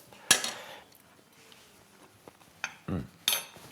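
A spoon stirring lentil soup in a pot gives a few separate scraping clinks against the metal, loud bursts with quiet gaps between them, close up and without talk.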